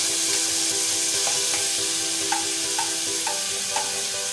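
Half a kilo of beef keema drops into a hot pan and fries with a steady, close broadband sizzle, while a few light spoon stirs click faintly through it; no one speaks.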